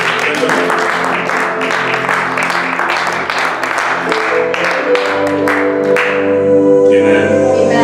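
A church congregation applauds during an afternoon worship service: dense, steady clapping fills the whole stretch, loud and close, over sustained musical tones that linger as the clapping thins near the end.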